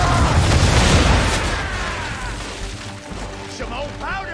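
Ship cannons fire a broadside in Assassin's Creed III, loud booming blasts crowding the opening second, then a rumbling decay with shouting voices over the fading reverberation.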